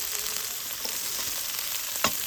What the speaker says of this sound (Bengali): লঙ্কা আর আদাটাকে কিছুক্ষণ ভেজে নেওয়ার পর দিয়ে দিচ্ছি ক্যাপসিকাম কুচি